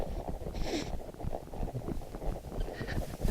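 Horse being ridden during a training session, soft irregular hoofbeats on the ground at moderate distance, faint and low amid quiet ambient background.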